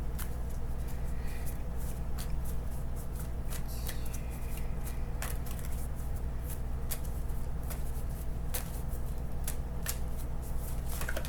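A deck of cards being shuffled by hand over a steady low background hum, with repeated crisp riffling bursts and soft shuffling throughout, no talking.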